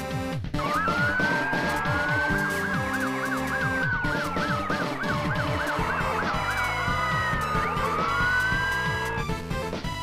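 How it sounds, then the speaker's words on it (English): Loud police sirens wail continuously, several overlapping up-and-down tones sweeping together, with traffic rumble underneath for the whole stretch. "a loud wail of the sirens as the police were chasing him"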